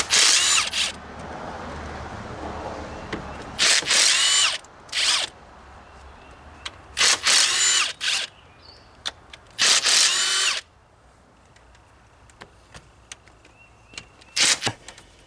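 Bursts of a ratchet driving a 10 mm deep well socket on bolts in the engine bay of a 2014 Ford Taurus Limited 3.5L, loud and close, with rapid clicking runs of about half a second to a second separated by quiet pauses and occasional single clicks.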